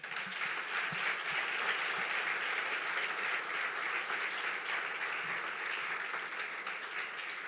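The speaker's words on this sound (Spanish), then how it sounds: "Vamos a darle una ofrenda de palmas." A church congregation applauds steadily in a dense, continuous round of clapping that holds at an even level from start to finish, with no talking over it.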